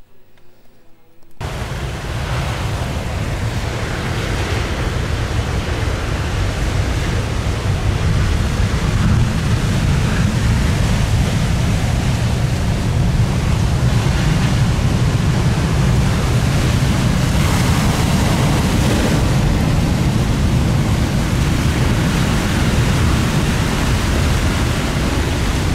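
Sea waves wash continuously over the shore in a loud, broad roar of surf, close by and unbroken, with wind buffeting the microphone and no clear voices.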